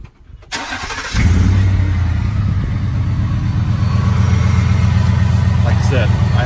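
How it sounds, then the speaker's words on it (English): A 2018 Ford F-150 5.0 V8 engine cranks briefly, catches with a roar, and settles into a steady, deep idle, loud and close. "I'm gonna crank both vehicles up so y'all can hear the engines in them."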